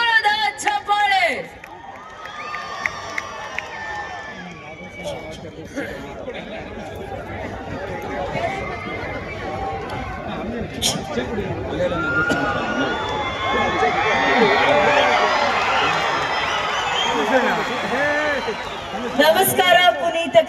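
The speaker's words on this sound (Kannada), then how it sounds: "ನಮ್ಮ ಆಂಕರ್ ಅನುಶ್ರೀ ಅವರಿಗೆ ಬರಲಿ ಜೋರದ ಚಪ್ಪಾಳೆ." A crowd at a stage event in Kolar cheers and applauds as an anchor is welcomed, building to a loud sustained roar of clapping and shouts after an announcer's voice.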